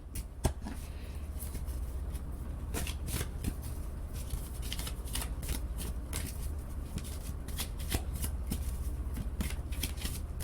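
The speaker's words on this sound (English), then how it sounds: "I'm gonna pull one more shuffle." Tarot cards are shuffled continuously and close up, a crisp riffling and flicking with repeated sharp snaps over a low steady hum.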